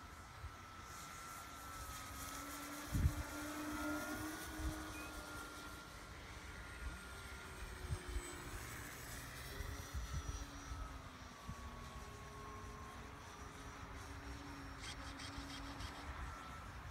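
FMS Stuka aircraft in flight: a steady, faint engine drone with a wavering tonal whine that holds for the whole stretch, with occasional soft knocks and no talking.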